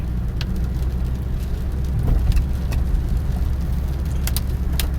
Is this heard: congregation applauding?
no